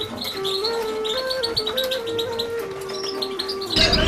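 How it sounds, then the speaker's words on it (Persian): Several small caged songbirds in Badakhshan chirp and trill in quick repeated bursts, close and lively, with a brief rustling clatter at the end. "به صدای دلنشین این پرندگان گوش دهند"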